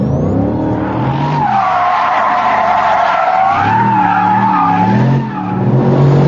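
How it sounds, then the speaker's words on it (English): A Mercedes SLR McLaren's high-revving engine roars loudly up close, its pitch rising and falling through the gears with a brief tire squeal, no talking. "that awesome engine really makes this car"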